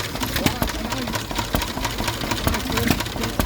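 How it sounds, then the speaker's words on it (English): A Lister Junior stationary engine runs at a Victorian-themed engine show in Llandudno, its steady rapid chuffing beat close and loud with a few sharper knocks, while someone talks over it. "Here we have a Lister Junior."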